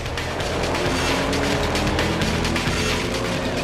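Race cars in a Type R, NSX and GTO battle accelerating out of a corner, a loud dense engine roar that stays steady close by with no talk over it.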